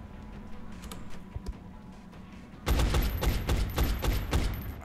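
Gunfire in the turn-based video game XCOM: Enemy Unknown: after a quiet stretch with a few isolated pops, a loud burst of rapid, sharp shots erupts and continues through the rest of the clip, close and dominant.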